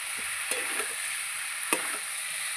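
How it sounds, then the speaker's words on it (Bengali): Water hits spice masala sizzling in a pan for a live tilapia and vegetable curry, giving a steady hiss close by, broken by a couple of sharp clicks and spits. "এবার জল দিয়ে দেবো।"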